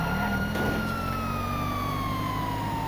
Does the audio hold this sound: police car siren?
yes